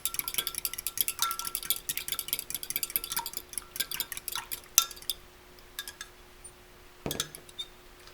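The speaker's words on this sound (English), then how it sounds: "I'm going to go back to the fork to kind of get it to incorporate better. Some fast stirring." A fork whisks fast inside a mug of pumpkin spice hot chocolate made with oat milk, a rapid run of light clinks against the cup that thins out midway, then a few scattered taps and one last clink, no talk.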